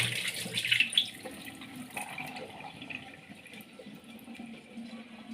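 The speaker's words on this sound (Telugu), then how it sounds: "మీకు వాటర్ అంతా పారపోసి చూపిస్తానండి." Water poured off soaked brinjal seeds, a close continuous splashing pour that starts strongest and eases into a steady trickle.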